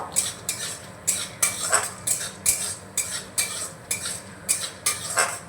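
Chana dal being stirred in a pan over a low flame, a spoon scraping the pan in repeated rhythmic strokes, close and clear with a faint sizzle underneath.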